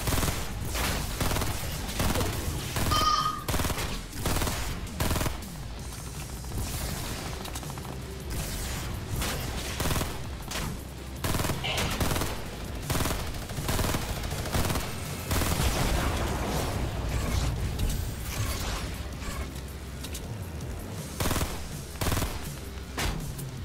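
Players exchanging gunfire in a Fortnite battle royale match, with repeated rifle shots and bursts mixed with mechanical clicks and clatter, steady and fairly loud throughout.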